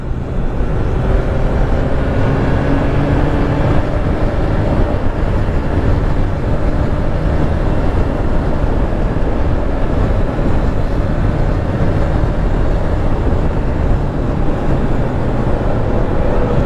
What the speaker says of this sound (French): Petite moto avec un gros moteur.